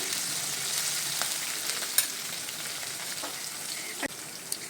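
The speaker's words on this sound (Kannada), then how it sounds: "ನೋಡಿ, ಇವಾಗ ಮೆಣಸಿನ್ಕಾಯಿ ಫ್ರೈ ಆಯಿತು" Green chilies, garlic and chili powder fry in hot oil for a dal fry, making a continuous close sizzle broken by a few sharp clicks and taps from stirring.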